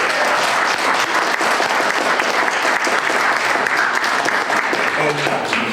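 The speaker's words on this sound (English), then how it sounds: "Give a round of applause." A crowd at a roundtable discussion gives a round of applause: steady, loud, dense clapping that continues without a break.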